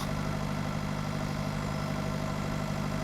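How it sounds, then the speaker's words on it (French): Tractor engine idling in Pure Farming 2018, a steady, dense rumble that stays even throughout with no changes in pitch. "Ah oui, mon tracteur, ok, c'est super."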